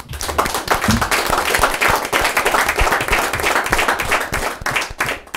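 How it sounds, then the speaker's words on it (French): A studio audience on a Caribbean talk show applauds an introduced guest, loud close clapping with sharp individual hand claps that swells and holds for several seconds before tapering off. "vous allez les applaudir à chaque appellation"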